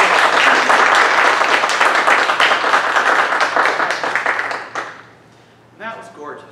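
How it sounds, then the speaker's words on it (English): Applause from a concert audience after a university choir performance, loud steady clapping for nearly five seconds that fades out, followed by a voice speaking briefly. "because the applause is so short"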